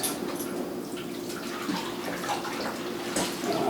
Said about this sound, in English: We're draining the water off.